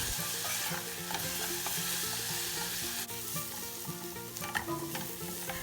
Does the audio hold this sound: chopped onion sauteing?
yes